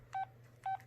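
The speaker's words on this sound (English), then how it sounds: "Key beep." A Samsung SCH-A850 cell phone gives short electronic key beeps, two clear tones about half a second apart with a third starting at the end, over a quiet low hum.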